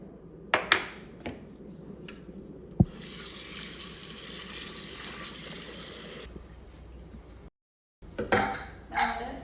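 Tap water pours steadily into a metal pot, framed by clinks and knocks of utensils before and after, with a brief silence near the end.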